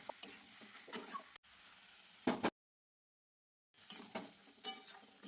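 Spice masala stir-fried with boiled small potatoes and green peas for aloo dum in a pan, with soft close scraping and stirring over a faint sizzle, broken by a brief silent gap midway.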